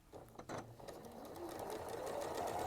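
A sewing machine stitches pieces of fabric, its motor whirring up into a steady, rising hum after a few soft starting clicks, close and moderately quiet.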